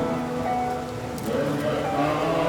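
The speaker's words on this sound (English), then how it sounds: "Untypically for this time of year, it's raining" Steady rain falls at daybreak near Angkor Wat in Siem Reap, Cambodia, a dense, even patter filling the whole stretch, with faint tonal sounds beneath it.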